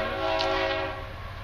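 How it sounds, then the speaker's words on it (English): A train approaches near Utah Lake, sounding its horn in a sustained, loud blast over a steady rumble of railcars, with no one talking. "Well, here comes the train."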